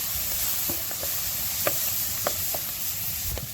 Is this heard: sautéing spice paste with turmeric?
yes